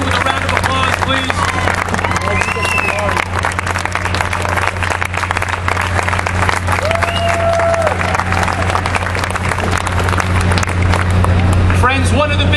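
A large outdoor rally crowd at Ground Zero on September 11, 2011, applauding New York fire and police, a dense continuous roar of clapping and cheering with whistles and voices over a low rumble.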